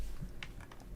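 A few quick keystrokes on a computer keyboard during CAD drafting, light clicky taps close by in a short irregular burst, with no talking.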